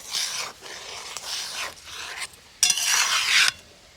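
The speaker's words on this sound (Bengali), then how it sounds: "সুজিটা দেওয়ার পর নাড়া বন্ধ দিলে হবে না এইভাবে অনর্গল নেড়ে যেতে হবে" A spoon scrapes and stirs semolina and raw potato mixture in a pan, coming in rhythmic rasping strokes with short pauses and a louder, busier stretch near the end.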